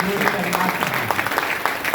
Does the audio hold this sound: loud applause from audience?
yes